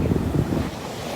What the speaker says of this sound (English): rocks getting hit by the waves.